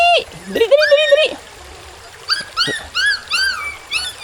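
A dog whines and yelps in high, wavering cries, two bursts separated by a short pause, close by, with running water faintly behind.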